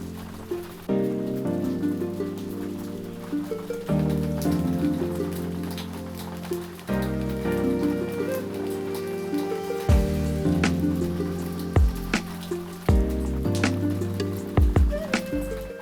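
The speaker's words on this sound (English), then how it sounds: "How vibey is this rain?" Rain falling steadily in Japan, pattering on surfaces with close, irregular drips throughout, while musical tones play prominently over it.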